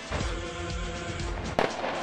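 A mortar round bursts close by during street combat in Jobar, Syria, a sharp single blast cutting through the rumbling background of ongoing fighting.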